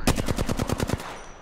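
Rapid burst of automatic gunfire in Apex Legends, about nine close, evenly spaced shots over a second, then a short fading tail.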